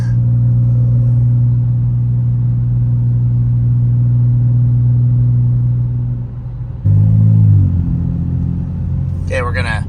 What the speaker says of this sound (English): hope you guys liked the ride in the 2024 M2 with all the bolt-ons